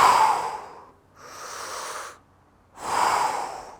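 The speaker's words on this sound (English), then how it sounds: "Take nice, big, deep breaths as you're shrugging the shoulders upwards with your weights" Three deep, slow breaths during weighted shoulder shrugs, each a drawn-out, airy rush of breath close to the listener, separated by brief silences, with no talk.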